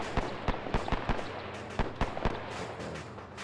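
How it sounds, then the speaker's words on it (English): Tank gunfire in the video game Arma 3 booms off to the east, a run of sharp, loud blasts in an irregular rhythm that trail into a rumbling tail and then fall quiet. "that tank gunfire to our east is fucking brilliant"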